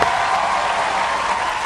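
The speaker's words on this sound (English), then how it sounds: "Once again, give Andrew a big round of applause right now" At an outdoor food truck party, a crowd applauds Andrew, an Air Force serviceman back from deployment, with a short burst of steady, dense clapping throughout.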